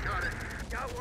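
Gunfire in the Terminator Dark Fate Defiance video game, a dense, continuous burst of shots that runs through the whole moment, with a voice faintly mixed in.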